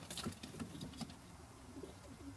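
Nègre à crinière breed pigeons in a breeding loft, soft cooing calls repeated a few times at low volume over a steady background hiss, close but faint.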